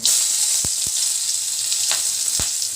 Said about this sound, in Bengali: গোটা গরম মশলা ফোড়ন দেওয়া হচ্ছে